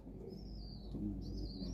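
Pigeons kept for breeding, soft low cooing close by with a faint high whistle over a quiet room hum, brief and gentle with no one talking.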